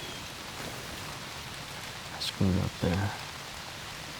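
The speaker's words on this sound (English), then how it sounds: "I just hope it doesn't rain too hard" Rain patters steadily on the tree canopy in woodland during an early season morning hunting sit, a soft continuous hiss under a brief spoken remark.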